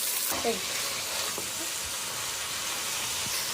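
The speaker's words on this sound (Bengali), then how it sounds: "চালগুলোকে আমি তেলের সাথে ভালো করে ভেজে নিচ্ছি" Soaked chinigura rice fries in oil in a pan with fried onion for beef tehari, giving a steady close sizzle with a few stirring scrapes and no talking.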